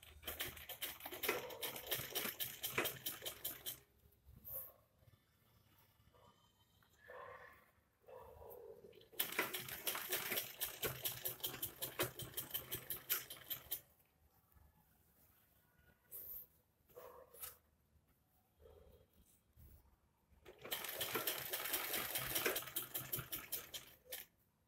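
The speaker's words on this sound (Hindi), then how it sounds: "अब एक सिलाई हम गले के ऊपर लगाएंगे इसको सेट करते हुए।" A sewing machine stitches along a kurti neckline in three long bursts of steady, fast rattling, close by, with quieter pauses between runs as the fabric is set; no voices.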